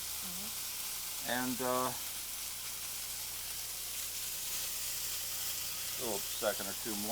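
Flour sizzles and hisses steadily in a hot pan while wine is deglazed, for a dish with crab, clams or chicken, a soft continuous frying bed under brief bits of talk.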